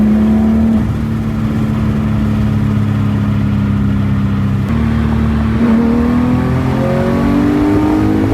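A Porsche 911 GT3 Touring engine at a cars and coffee meet, loud and close, holding a steady idle-like drone before climbing in a rising rev toward the end.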